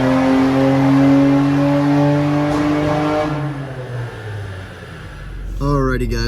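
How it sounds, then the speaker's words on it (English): A Nissan R32 GTR running an E85 tune revs hard and steady on a dyno, then drops off, with a loud burst near the end that fits a lean pop up top. "they were getting like a weird lean pop up top"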